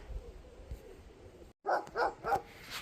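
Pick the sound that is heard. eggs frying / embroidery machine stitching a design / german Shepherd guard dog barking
german Shepherd guard dog barking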